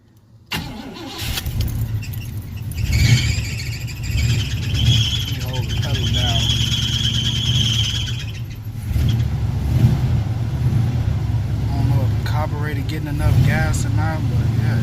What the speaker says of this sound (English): I'm stepping on the gas pedal. Once I let the gas pedal go, it's just gonna cut off.